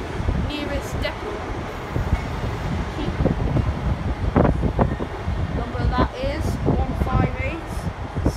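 Class 158 diesel unit pulling into York station from the Leeds, Hull or Blackpool line, a low rumbling approach with squeals and clanks on the platform amid station bustle and wind, with people talking nearby.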